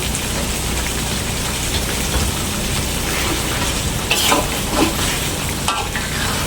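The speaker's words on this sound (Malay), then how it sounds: "kita masukkan daging hangat" Meat goes into a hot pan for daging masak sambal and fries with a dense, steady hiss. A few louder crackles and stirring scrapes rise above it near the end, with no talk.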